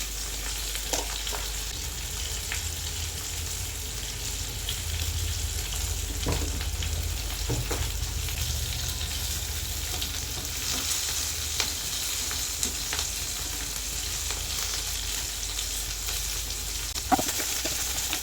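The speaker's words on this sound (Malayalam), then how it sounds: "ഒരു രണ്ട് പച്ചമുളക് നീളത്തിൽ അരിഞ്ഞതും കുറച്ച് കറിവേപ്പിലും ഒരല്പം മുളക് പൊടിയും ഒരല്പം മഞ്ഞൾപ്പൊടിയും ഇട്ട് കൊടുക്കാം" Green chilies, curry leaves, chili powder and turmeric sizzle steadily in hot oil for a Kerala curry, with occasional clinks and scrapes of a spoon stirring the pan, close and continuous with no talking.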